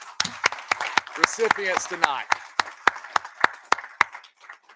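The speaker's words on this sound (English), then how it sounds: "How about one more round of applause and congratulations for all of our" Audience at a school board of education meeting claps as a round of applause for staff award recipients, the sharp handclaps sounding in a steady series while a speaker talks over them.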